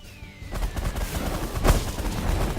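Ships firing on freighters in the space strategy game The Last Federation, a rapid stream of overlapping gunfire bursts and thuds with one heavier blast midway, continuous and fairly close.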